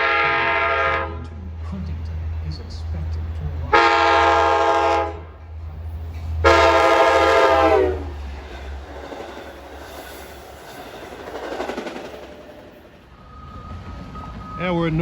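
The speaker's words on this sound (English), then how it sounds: "Got an eastbound diesel at 356." An eastbound Long Island Rail Road diesel train at the New Hyde Park Road grade crossing blows several long, loud horn blasts over a steady low engine rumble, with wheel and rail noise trailing off as it passes.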